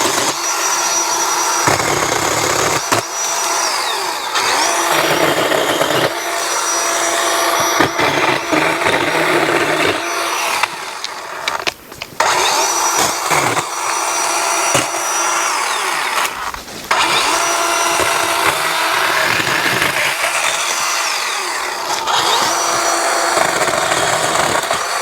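A Dewalt electric pole saw cuts through an oak tree limb, its steady high whine running loud and continuous with brief dips as the chain bites and eases.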